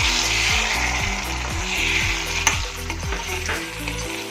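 Cornflour slurry goes into a pan of sizzling Manchurian gravy on the stove, with steady frying bubbles and repeated scraping stirs in an even rhythm, close and fairly loud.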